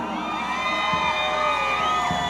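A crowd shouts and cheers steadily at a folk orchestra contest in Pasos, with voices and whoops forming a loud, continuous roar over music.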